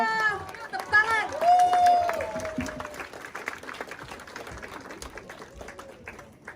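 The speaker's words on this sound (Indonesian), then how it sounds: "Tepuk tangan." An audience at a medical lecture applauding the speaker, the clapping swelling then fading, mixed with talk and cheering voices over it.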